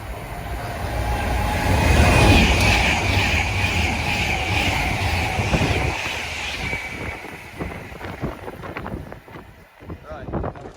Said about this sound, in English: Another express going north